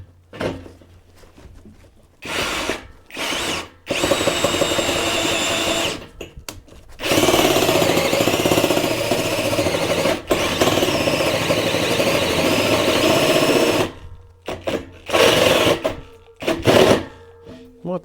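A battery power drill bores a hole out to 44 mm through an existing pilot hole for a diesel heater exhaust upgrade. It runs in loud, whining bursts of several seconds, stopping and restarting with quiet gaps and handling knocks between.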